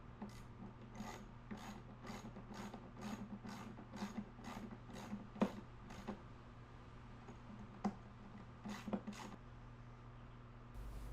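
A screwdriver runs a screw in and out of a hole in a KTM 250SX fuel tank during repair, a rapid series of about a dozen rasping ratchet-like clicks, faint and close, later slowing to a few scattered turns.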